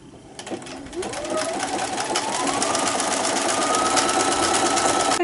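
A sewing machine runs an open zigzag stitch over fabric applique for a gift wine bag, starting after a brief pause and speeding up into a steady, loud, close rattling hum that continues to the end.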